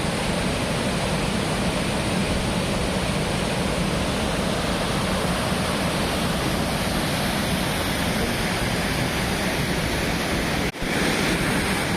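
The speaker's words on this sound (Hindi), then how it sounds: "प्रपात का पानी, ऊपर से गिरता हुआ पानी आप देख सकते हैं।" Karkatgarh waterfall on the Karmanasa river pours down in a loud, unbroken roar of falling water heard up close, with no talk.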